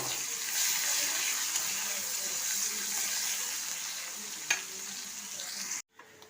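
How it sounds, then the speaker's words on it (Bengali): Finely chopped onion sizzles steadily in hot oil with dried chilli and cumin, a continuous close frying hiss with a brief clink near the end before the sound cuts off abruptly. "পেঁয়াজটা ভাজা হয়ে গেছে"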